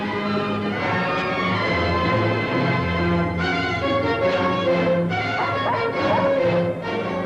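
A dog in a 1973 Hindi film barks repeatedly and yips in a busy, layered soundtrack, the barks loud and close and coming in quick bursts.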